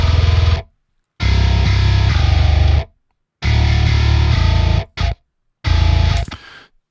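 Clean and distorted bass guitar tracks layered together in a home studio mix, playing loud, gritty sustained notes in several separate phrases broken by short silences, with no talking.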